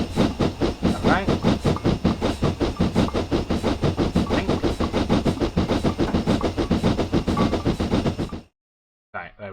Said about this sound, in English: We're on a steam train.